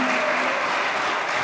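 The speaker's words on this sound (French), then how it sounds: "Applaudissez pour la chorale de Koreki," An audience claps loudly for a Kimbanguist children's choir at a concert, a brief burst of dense, continuous applause with no voices over it.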